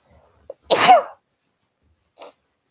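A single sharp sneeze, close and loud, preceded by a quick intake of breath and followed by a faint sniff.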